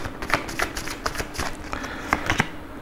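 Tarot cards are shuffled by hand in a quick, uneven run of close riffling and snapping bursts, with no talk over them.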